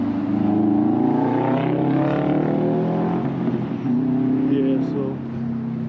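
A Subaru drives past at a hill climb, its engine note rising then fading as it goes by at moderate distance, with a person talking over the sound.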